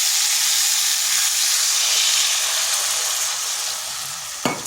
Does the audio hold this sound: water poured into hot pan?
yes